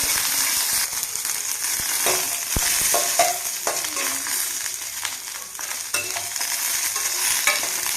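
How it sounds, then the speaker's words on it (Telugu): Dried red chillies, about fifteen, fry in oil in a pan with a steady close sizzle, broken by scraping stir strokes and occasional sharp clinks against the metal. "ఇందులోనే ఒక పదిహేను ఎనిమిరిగాయలు వేయించుకుందామండి"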